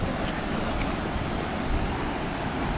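Steady roar of sea waves washing in on a rocky coast at Yehliu Geopark, Wanli, Taiwan, mixed with wind buffeting the microphone, continuous and fairly loud throughout.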